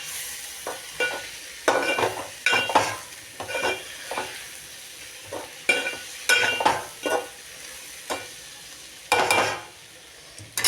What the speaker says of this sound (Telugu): మళ్ళీ ఒకసారి ఇట్లా కలుపుకోండి.